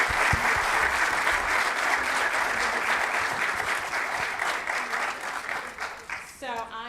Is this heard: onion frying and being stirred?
no